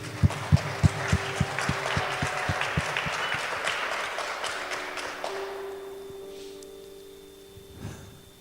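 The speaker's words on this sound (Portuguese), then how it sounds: "Vamos dar uma salva de palmas ao Senhor Jesus" A church congregation breaks into applause, starting with strong rhythmic clapping in unison that loosens into scattered clapping and fades out, while a sustained organ or keyboard tone rises underneath.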